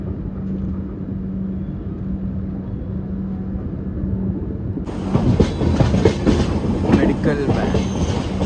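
An Indian Railways passenger express runs on the rails with a continuous rumble and rhythmic clatter, turning noticeably louder and brighter about halfway through as the rolling noise swells up close.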